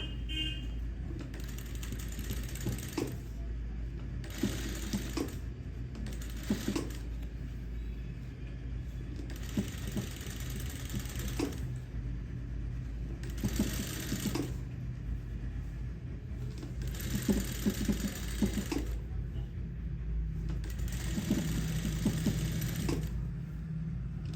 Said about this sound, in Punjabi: ਹੁਣ ਇਹਦੇ ਉੱਪਰ ਆਪਾਂ ਪਹਿਲਾਂ ਸਲਾਈ ਲਗਾ ਲਾਂਗੇ ਇਸ ਤਰ੍ਹਾਂ